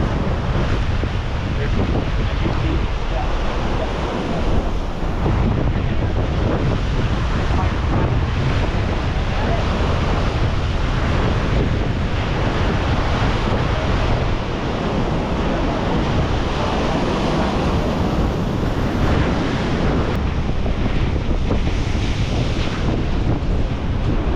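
Loud, constant roar of ocean surf and wind on a shore, with waves washing in continuously and heavy wind buffeting the microphone.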